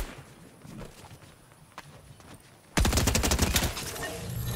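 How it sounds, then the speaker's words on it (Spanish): Gunfire in the Fortnite video game starts as faint distant shots over quiet ambience, then a loud burst of rapid fire erupts close by and continues to the end. "muchos disparos por al fondo"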